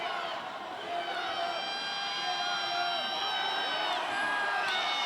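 Fight-night crowd at a boxing bout chanting and cheering steadily throughout, a dense, sustained roar with rising whoops and a shrill whistle-like tone riding on top, no clear speech above it.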